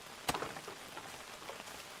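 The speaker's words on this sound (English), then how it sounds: "Like the fire and rain sounds?" Soft, steady video game rain patters quietly and evenly throughout, with one sharper drop or splash near the start.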